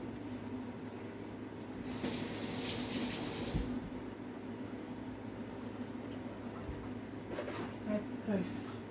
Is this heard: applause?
no